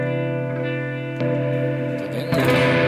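Electric guitar played through an effects unit, its tone shifting mid-phrase to a brighter, more distorted setting under automated switching in a live rig; sustained chords with echo and chorus, no talking.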